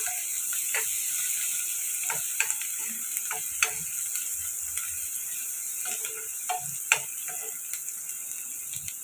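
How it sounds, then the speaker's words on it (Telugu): Onions frying in oil in a pan for spicy egg karam pulusu, a faint, quiet sizzle broken by scattered small pops and clicks of stirring, with no talking. "ఉల్లిపాయలు ఇలా ఫ్రై అవుతున్నాయి కదండి"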